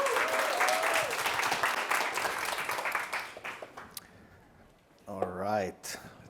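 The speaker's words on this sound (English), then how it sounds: "So round of applause for Miikka, please." A conference audience applauds with steady, dense clapping that gradually thins out and fades, followed by a voice speaking.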